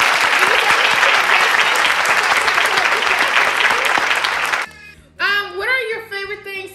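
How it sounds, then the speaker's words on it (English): Dense, sustained applause from a group of hands clapping fills most of the moment, then cuts out as a voice and an adult talk over a quieter room. "let me give you a big hand clap for doing Itsy Bitsy Spider"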